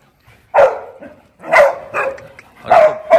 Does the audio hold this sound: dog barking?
yes